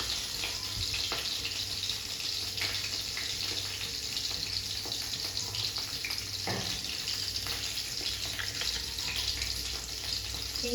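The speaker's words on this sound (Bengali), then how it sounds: "এখন একটু জল দেবো।" Water poured into a pan of fried fish seasoned with turmeric, salt and green and ripe chillies sets off a constant rushing hiss and sizzle, with faint clicks underneath.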